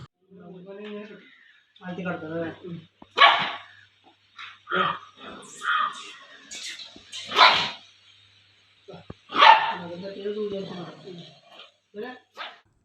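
A three-year-old German breed dog with a bone stuck in its throat gives a few hoarse barks and whimpers, mixed in among people talking nearby.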